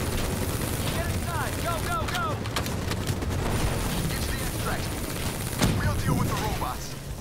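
Razorback gun firing in Call of Duty: Black Ops III, bursts of rapid gunfire in a noisy battle with chirping effects and a heavy blast near the end, under steady game noise.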